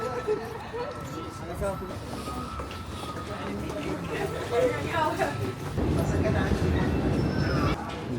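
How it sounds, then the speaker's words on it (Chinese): A Cairo metro train hums and rumbles beneath a busy chatter of voices, the rolling noise swelling louder and heavier toward the end. "这边有开罗的地铁，"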